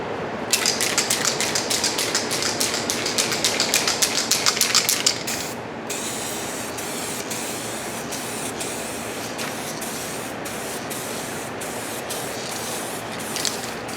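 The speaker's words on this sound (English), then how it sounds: "we're gonna lay on some clear, probably 2 full cans" A spray can of SprayMax 2K clear coat hisses out in rapid short bursts over a motorcycle fairing, then settles into a long continuous spray with brief pauses, close and steady.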